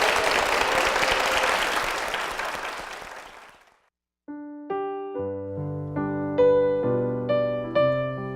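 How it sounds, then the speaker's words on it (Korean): Congregation at Eden Church applauding an elderly deaconess, a full sustained round of clapping that fades out over a few seconds, followed by soft piano chords beginning a hymn. "큰 박수 부탁드리겠습니다"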